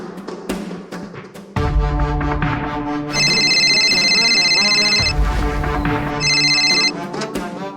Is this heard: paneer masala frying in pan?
no